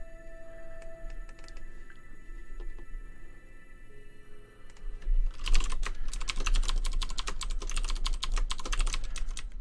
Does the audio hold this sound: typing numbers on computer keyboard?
yes